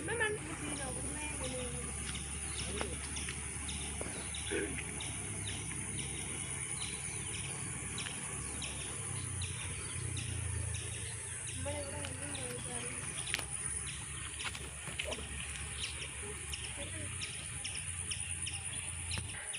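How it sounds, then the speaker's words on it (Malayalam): A flock of migratory birds calling outdoors beside a stream, chirps and calls scattered over steady insect-like hiss and a low background rumble, with faint noise of people throughout. "നല്ല ദേശാടന പക്ഷികളാണ് കേട്ടോ."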